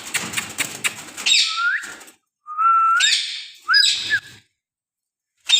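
A ringneck parrot from a breeding pair gives loud, rising and swooping whistles, three distinct calls after a burst of rapid chattery notes. The calls are close by and no one talks.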